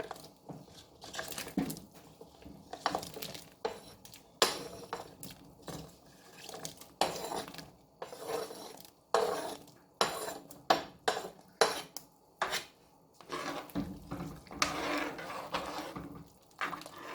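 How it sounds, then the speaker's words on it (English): Pumpkin pieces dropped into a pot for Jamaican goat head soup make a series of close clattering knocks and clunks against the metal, with wet splashy thuds, spaced irregularly over the stretch. "I'm just gonna toss in my pumpkin right in the pot"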